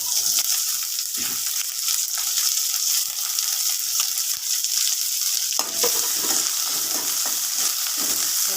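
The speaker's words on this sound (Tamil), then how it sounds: "ஒரு பெரிய வெங்காயம் எடுத்து கட் பண்ணி சால்ட் நல்லா வதக்கிடலாம்" Chopped onion with salt sautéing in a pan for a shark fish curry, a steady loud sizzle with scraping stirs, growing busier with clattering strokes in the second half.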